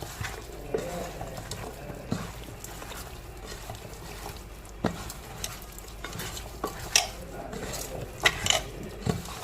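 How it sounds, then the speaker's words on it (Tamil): Oil-free diet chicken being stirred and mixed in a pot: irregular soft scraping and wet shuffling with scattered light knocks, close and fairly quiet, with no talk. "அதுக்கப்புறமா நல்லா கிளறி விட்டுக்குவோம்"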